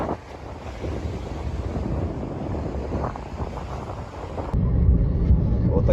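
Wind-driven waves on rough Lake Baikal, a broad steady wash of surf under heavy wind buffeting on the microphone, growing louder and more rumbling toward the end.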